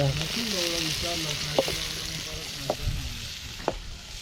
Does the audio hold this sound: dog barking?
no